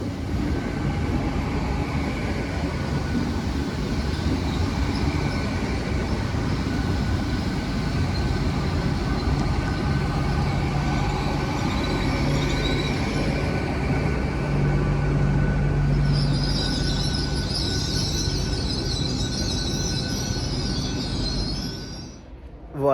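A Great Western Railway IET train rolls through a station on the Worcester–Gloucester–Bristol line with a steady, loud rumble of wheels and engine, rising to a squeal of wheels before the sound fades at the end.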